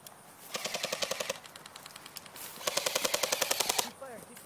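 An airsoft AEG fires two long, rapid full-auto bursts outdoors, the loud mechanical rattle of each shot evenly spaced, with a short pause between bursts and people talking around it.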